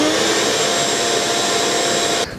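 A shop vacuum powered by a Bluetti AC200P solar generator roars loud and steady at close range, then cuts off abruptly near the end.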